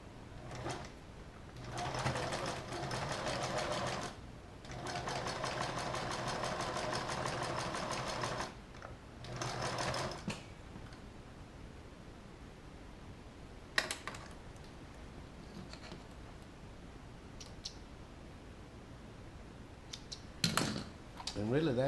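A sewing machine stitches the bottom of a leather bag's lining in several close, whirring bursts of rapid stitching with pauses between, followed by quieter handling noises and occasional clicks.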